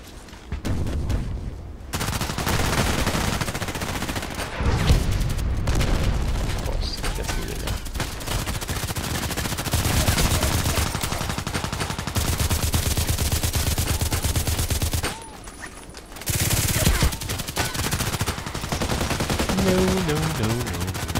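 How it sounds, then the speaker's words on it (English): A Glock pistol in the shooter game Contract Wars fires in dense, rapid bursts that run almost without a break for most of the stretch, with a couple of short pauses. The fire is loud and close. "The massive fire rate of the Glock."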